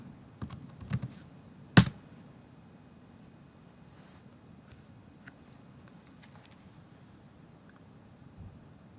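A few sharp keystrokes tap on a computer keyboard in quick succession, close by, followed by a long stretch of quiet room tone.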